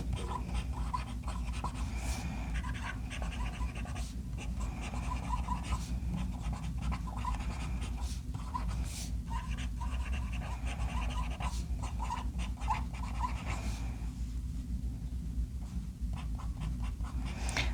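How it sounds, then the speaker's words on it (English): A Pelikan Souverän M809 fountain pen nib, held in reverse, writing on paper: close, steady scratchy strokes repeating rhythmically over a constant low hum, pausing briefly near the end. "it writes extra fine in reverse"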